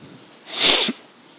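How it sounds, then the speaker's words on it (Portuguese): A single loud, hissy sneeze with coughing bursts out and fades quickly, with quiet room background before and after; no talking. "perdão, tá, gente, por ter espirrado e tossido aqui."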